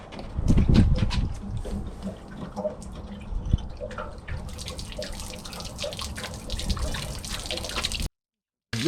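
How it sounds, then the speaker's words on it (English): Water gushes and splashes steadily as it drains out of a 2022 Keystone Montana RV water heater, a strong flow that stays continuous before cutting off abruptly. "Next step is going to go ahead and drain the water heater."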